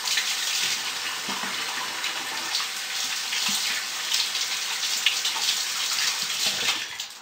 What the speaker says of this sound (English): Let me wash my hands quickly